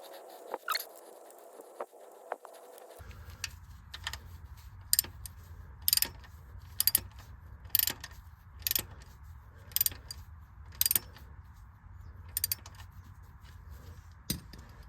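Ratchet clicking as a sump plug is tightened on a Land Rover Discovery 4 with the 2.7 TDV6 or 3.0 SDV6 engine: close, quiet, evenly spaced clicks in short bursts over a low background hum.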